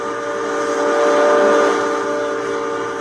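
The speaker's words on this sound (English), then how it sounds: "The whistle is used as a signaling device and as a warning device." A steam locomotive whistle on the Georgetown Loop Railroad blows loud and sustained, a steady-pitched tone with layered harmonics, close by with no talking.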